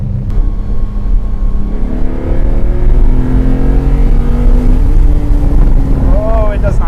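A V12 Lamborghini Diablo accelerating, a loud engine roar rising in pitch through the revs, close and sustained, with a voice speaking over it near the end.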